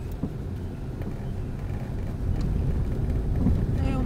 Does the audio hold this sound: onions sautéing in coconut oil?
no